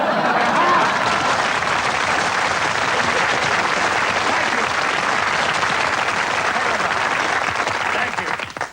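A theatre audience at a comedy show breaks into sustained, dense applause that holds steady for several seconds before tapering off at the end.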